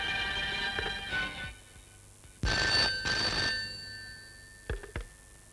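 A telephone bell rings in several short bursts during a phone call, loud and close, with quiet pauses between the rings and no talk over them.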